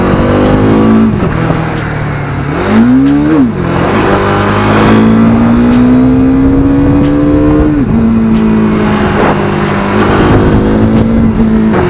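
A Bajaj Dominar 400 motorcycle engine revs hard and loud throughout, pitch climbing and dropping with throttle changes, a steady roaring drone between bursts.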